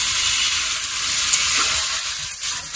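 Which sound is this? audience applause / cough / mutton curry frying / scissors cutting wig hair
mutton curry frying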